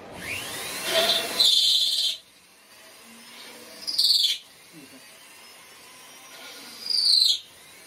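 A drill smooths the holes in a wooden tenkan in three separate whirring bursts, near and fairly loud, each rising to a high whine and then cutting off, with quiet pauses between them.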